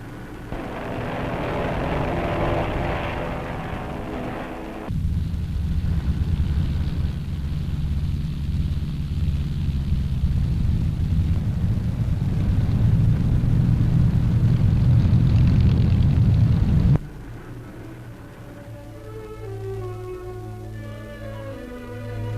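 Steady engine drone and low rumble of a propeller aircraft flying close by the aircraft carrier Arromanches in 1956, swelling louder then cutting off abruptly, with a quieter tonal hum continuing afterward.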